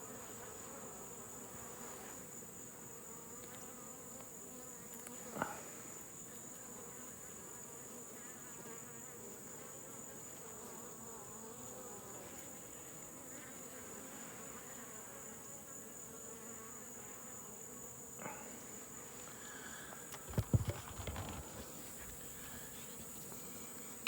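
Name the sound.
honeybees in a Layens hive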